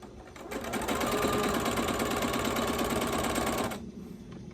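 A sewing machine stitching quilt pieces together runs in a steady, rapid needle rhythm for about three seconds, close and clear, then stops abruptly, leaving a quiet room.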